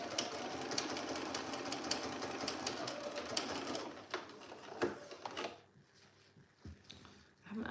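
A sewing machine stitches trousers with a steady, continuous mechanical whir that fills the first four seconds, then breaks into short bursts and stops as it reaches the end of the seam.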